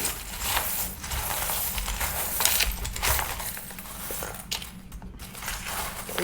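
Small divination charms get handled and dropped in a busy stream of close clinks, rattles and jingles, loud and continuous, with no voices over them.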